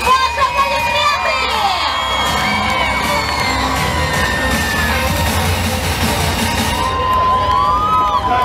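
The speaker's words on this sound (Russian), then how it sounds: "Под ваши аплодисменты!" Outdoor crowd at a cosplay show at the Humorina festival in Odessa's city garden, loud cheering, whoops and children's shouts with applause, sustained throughout at close range.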